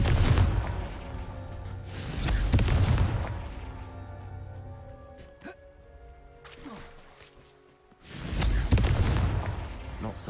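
Confringo fire spells in Hogwarts Legacy go off as heavy booming blasts, roughly three loud bursts with rumbling decay between them, along with some faint game effects.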